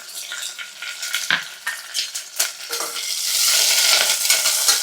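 Curry leaves frying in hot ghee for pappu rice, a busy close sizzle with crackling pops that swells louder and denser toward the end, with no talking.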